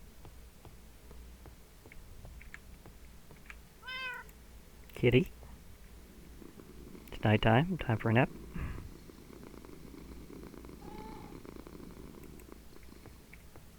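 A cat in the Minecraft game meows twice and purrs in short bursts, mid-loud against a quiet background, with a person talking softly between the sounds.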